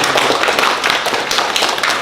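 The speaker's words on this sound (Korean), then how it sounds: "우리 옆에 분들 격려하면서 박수 한번 하도록 하겠습니다" A church congregation claps together to encourage one another during a sermon. Many hands sound at once in a close, brisk, dense patter.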